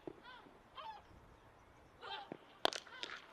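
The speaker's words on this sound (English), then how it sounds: "Seagulls can be heard as well." Seagulls call faintly in the distance over an outdoor cricket ground at nightfall, with a few short, scattered cries separated by quiet stretches and a sharp knock partway through.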